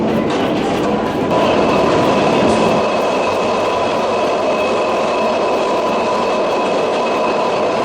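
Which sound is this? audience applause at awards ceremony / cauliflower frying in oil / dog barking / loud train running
loud train running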